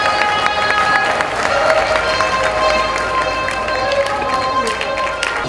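Audience applause at a Citroën DS launch ceremony in Abidjan, a steady wash of clapping from a crowd that runs through the whole clip at an even level.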